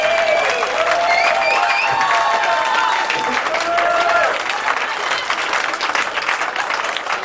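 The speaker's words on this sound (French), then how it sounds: "vous pouvez l'applaudir" A gathering after a match applauds one person with continuous, moderately loud clapping that holds steady for several seconds. A few voices call out over it early on.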